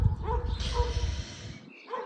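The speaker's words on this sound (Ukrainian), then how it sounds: "так собаки гавкають. Вибачайте, це на вулиці." Dogs bark outdoors in a street, a quick run of several sharp barks at moderate distance, loudest at the start and fading near the end.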